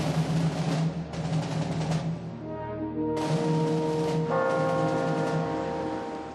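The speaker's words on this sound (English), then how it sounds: "the sounds of bells rang across the city of Seoul" Church bells ring across the city of Seoul, sustained overlapping tones swelling and fading in long resonant waves, loud and alone with no voices.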